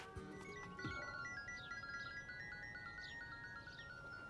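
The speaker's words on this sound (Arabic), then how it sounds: "اديني التليفون فهد" A telephone rings quietly in a drama scene, a melodic electronic ringtone of repeating tone patterns heard faint and somewhat distant over low background hiss.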